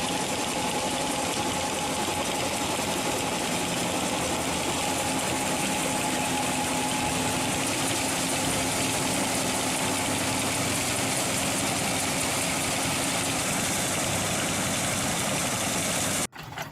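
A 15-horsepower IHC engine on a welded scrap-metal harvester idles steadily and loudly for a long stretch, a constant droning hum that cuts off abruptly at the end.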